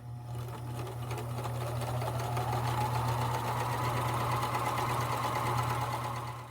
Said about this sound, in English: you're simply going to sew all the way down to the bottom and backstitch when you get to the bottom as well